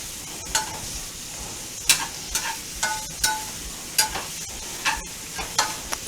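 Vegetables sautéing in a pan for Cajun grits with Andouille, seasoned with Tony's: a steady sizzle broken by repeated sharp scrapes and stirs of a spoon, close and fairly loud, with no voices.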